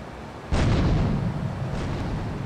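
Grenade blast in GTA III on PC, a sudden loud booming explosion with a rumbling tail, followed by a second softer burst, no talk.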